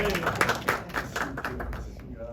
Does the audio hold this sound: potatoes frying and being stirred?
no